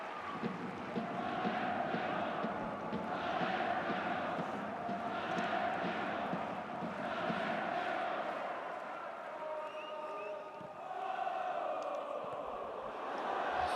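Football stadium crowd at an AFC Champions League match between Sanfrecce Hiroshima and Shanghai Shenhua, reacting to a hard challenge late in the game: a dense, steady roar with rhythmic swelling surges, loud and continuous throughout.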